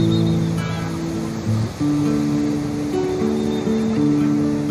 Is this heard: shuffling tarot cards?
no